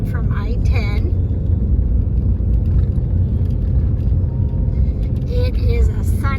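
An RV on the road near the entrance to Joshua Tree National Park, coming in from I-10, gives a constant low engine and road rumble inside the cabin while a person talks over it.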